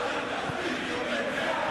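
Stadium crowd in the football video game PES 2021 applauds a good move, a broad steady roar of cheering and clapping with no commentary over it.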